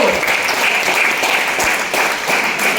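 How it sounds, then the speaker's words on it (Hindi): Sustained loud clapping from a seminar crowd at a business plan presentation, a steady, close wash of many hands with a few sharper claps standing out. "जोरदार तालियां दोस्तों"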